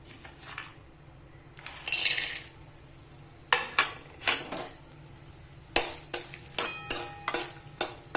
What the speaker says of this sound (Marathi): आता हे ड्रायफ्रूट भाजून घेते तेलात.